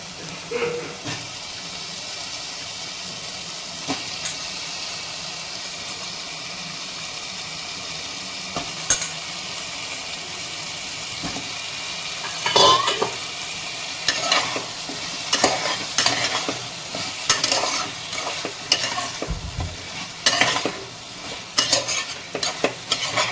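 Potatoes and spices sizzle and fry in a pan for an Indian potato curry, with repeated scraping stirs that grow busier and louder toward the end, no voices.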